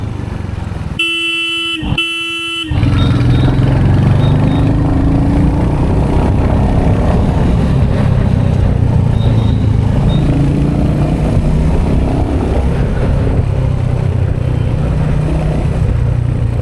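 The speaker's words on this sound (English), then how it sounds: "Fell in love with the bike due to this grunt." A Hunter motorcycle engine gives a loud, steady low grunting rumble that runs continuously after a two-part vehicle horn honk near the start.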